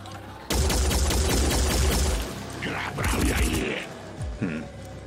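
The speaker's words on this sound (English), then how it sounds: "so we'll use the turret instead" A vehicle turret fires a rapid burst in the Phoenix Point strategy game, loud and dense for a couple of seconds, followed by debris and impact effects with a voice talking over the tail.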